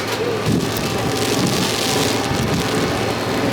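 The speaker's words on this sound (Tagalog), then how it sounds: "malakas ang ulan. Baka masira ang ating payong na to." Heavy rain pours steadily and loudly onto an umbrella, a dense continuous patter close by.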